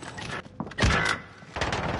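Gunfire in the Warzone video game, a burst of loud cracking shots with a heavy thud in the middle, close and dense over a short span.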